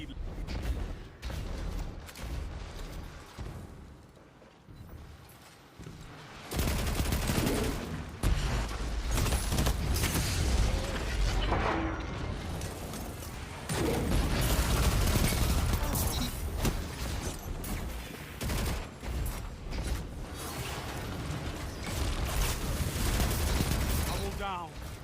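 Rapid SMG fire in a first-person shooter match, with dense bursts of shots that stay loud and steady for most of the stretch after a quieter opening, and a voice occasionally heard beneath.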